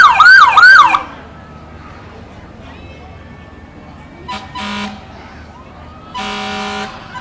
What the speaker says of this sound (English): That's what you hear, the vintage fire truck from the Edmond Fire Department